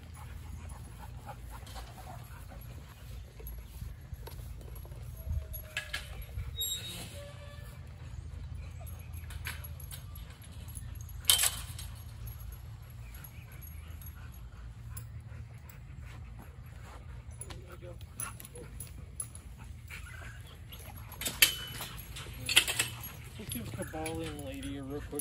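Dogs at a training facility whimper, pant and give occasional barks, with jangling keys and people talking over the top throughout.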